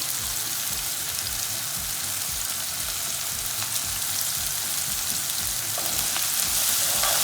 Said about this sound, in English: Let it saute for a couple of minutes before I add the other vegetables.